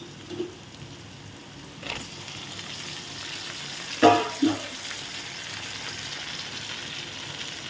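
Oil and golden-browned onions sizzle steadily in a pan for tomato thokku, with a sharper burst of frying midway as chopped tomatoes land in the hot pan, then a settling crackle.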